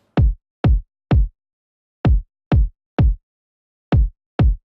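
Electronic break kick drum from a melodic dubstep track, eight punchy isolated hits with sharp attacks and quick decays, spaced in groups of three, three and two against silence.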